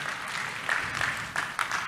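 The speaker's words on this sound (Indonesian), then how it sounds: "Sekali lagi tepuk tangan buat Tuhan kita Yesus." A church congregation at an Indonesian worship service applauds in a short, busy burst of many hands, fairly loud and close, with a few sharper claps standing out.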